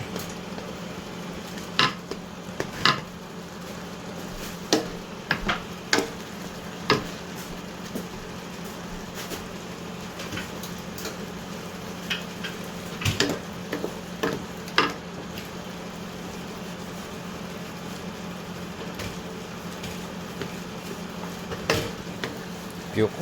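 Bihon noodles being mixed in a pan over the stove, with a low background sizzle and scattered clinks and scrapes of a utensil against the pan, some sharper knocks standing out.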